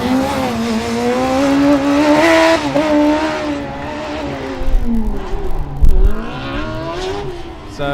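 A Formula Student race car on an autocross course at the 2012 Formula Student Germany event, its engine loud and close, pitch repeatedly climbing and dropping through gear changes and braking, with a hint of tire noise.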